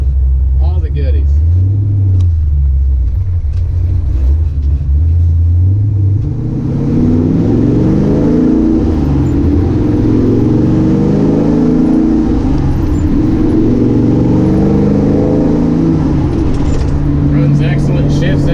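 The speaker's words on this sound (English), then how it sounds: "Cruising about 45 miles an hour right at 2300 RPMs" A 1957 Chevrolet Sedan Delivery's engine cruising at about 45 mph and 2300 RPM gives a steady, deep rumble throughout, with a voice talking over the drone for much of it.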